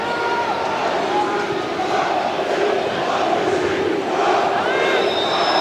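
Large crowd of FC København fans at an away Superliga match against AGF in Aarhus, cheering and jeering loudly and continuously, a dense roar with chant-like swells, with a commentator talking over it.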